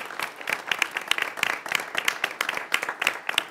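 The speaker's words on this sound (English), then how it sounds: "Let's give them all a round of applause" A small audience applauds students after their names are read, with distinct, fairly close hand claps in a lively, uneven patter that continues for a few seconds.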